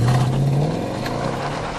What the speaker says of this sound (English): firing this V8 into life won't startle small animals and children as it would in, say, an AMG Mercedes